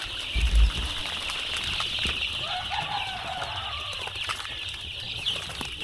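Young layer chicken chicks reared at home chirp and peep in a busy, continuous chorus, with light rustling and a faint thump near the start; no one speaks.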